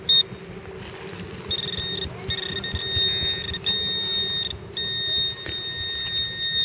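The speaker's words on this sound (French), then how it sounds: "J'ai repassé mon détecteur. Là j'ai un son pas mal plus élevé par exemple." Garrett 300i metal detector sounding over a coin near the surface, giving a sustained high-pitched electronic tone in several separate bursts of a second or so, clear over a low outdoor background.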